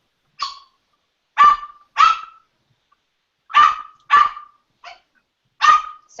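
A dog barks in sharp, loud, close bursts, seven or so separate woofs spaced irregularly with silence between, some coming in quick pairs.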